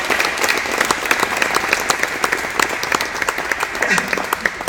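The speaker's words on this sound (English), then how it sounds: "Let's give them a round of applause" A lecture-hall audience applauds a panel on sport and social justice, with brisk, dense clapping and a few sharper individual claps throughout, while voices murmur faintly underneath.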